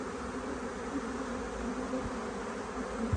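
A swarm of honey bees being captured into a new hive box buzzes in a dense, steady drone close by, continuous and unbroken throughout.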